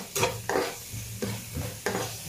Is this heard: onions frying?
yes